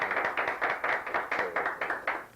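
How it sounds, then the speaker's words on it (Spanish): Sparse, distinct claps ring out in an uneven rhythm, like a small group clapping sharply up close, with no talking. "Un aplauso para esa caricatura"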